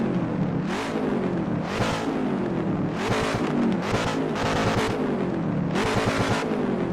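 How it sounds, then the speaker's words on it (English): A car engine in the Assetto Corsa racing game revs hard in repeated rising and falling surges. It is loud and close, with several sharp climbs in pitch and throttle blips. "listen to this engine."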